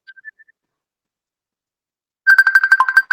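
A phone ringtone plays in a room during a cocktail-hour chat, with a few short tones at first, then a pause and a loud, repeating electronic ring pattern.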